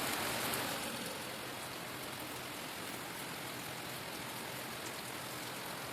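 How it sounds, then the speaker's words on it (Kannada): Heavy rain pours down in a dense, even hiss that stays constant throughout, with no voices. "ಬಂದೇ ಬಿಡ್ತು ಜೋರು ಮಳೆ"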